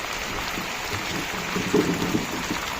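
First monsoon rain falls steadily over a Konkan village, a dense even hiss of rainfall on surfaces with a few louder drops near the end.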